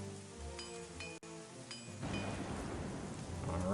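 Rain shower in the video game Caesar 3 comes in as a soft, spreading hiss of rainfall after a few game chimes and tones, rising steadily and filling the background with no talk.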